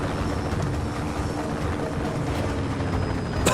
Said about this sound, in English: This is 10 times easier with a helicopter.